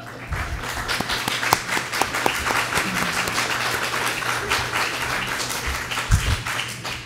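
Steady audience applause fills a room at a school board candidate forum, many hands clapping densely and continuously for several seconds at moderate loudness, with faint voices underneath.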